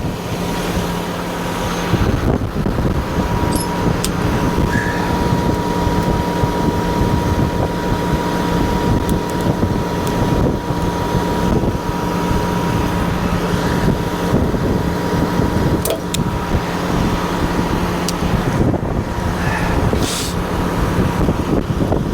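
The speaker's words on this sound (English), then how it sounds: "Oh, this wind is brutal." Strong, steady wind roars continuously in the open air beside a heavy-haul truck carrying a Komatsu HM300 dump truck, a dense broadband rush with faint gusting and low rumble throughout, no talk.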